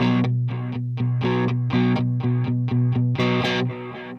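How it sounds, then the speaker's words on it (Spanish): A guitar runs through a delay effect on a Valeton GP-200 multi-effects pedal, playing a rhythmic series of overdriven chord stabs. Each stab is followed by repeating echoes, and the sound fades out at the end. "Tengo aquí en el C, guardé lo que es un delay."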